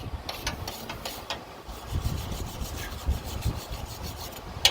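Metal scraping and rasping on a rusty, corroded distributor gear from a Ford F350 ThunderJet engine, a steady run of rough rubbing strokes close up, with a few louder scrapes and no talking.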